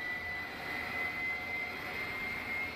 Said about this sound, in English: Engine's coming up.